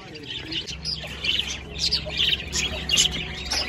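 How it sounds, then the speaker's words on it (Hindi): Pet parrots chirp and squawk in a busy, overlapping chatter of repeated calls, close by and fairly loud. "ये वाले तोते हैं जो आज जा रहे हैं"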